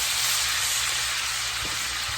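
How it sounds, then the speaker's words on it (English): Five cloves of garlic frying in a pan for lima bean soup, a steady bright sizzle that holds evenly throughout, with a faint clunk near the end. "Go ahead and fry that up"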